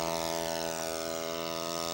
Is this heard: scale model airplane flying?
yes